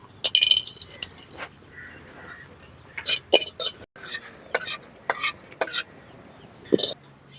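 Cinnamon bark dry-roasting in a pan for a papaya tamarind curry, stirred with a utensil: a series of sharp scraping clinks and taps at irregular intervals, moderately near, over a soft background hiss.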